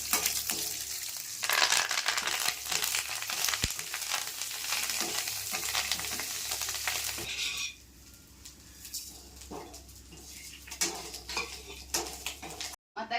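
Chillies and lentils fry in a pan with a loud, crackling sizzle and metal clinks from stirring. The sizzle drops to a quieter hiss partway through.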